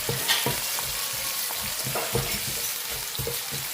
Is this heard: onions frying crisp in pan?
yes